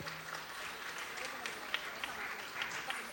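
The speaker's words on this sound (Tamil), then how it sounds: "இன்னொரு பெரிய கைத்தட்டல் கொடுத்துலாமா இந்த குட்டி சிங்கத்துக்கு?" Audience at a music academy event applauds a child, giving a steady, moderately faint patter of many hands with occasional sharper claps, and voices murmuring beneath.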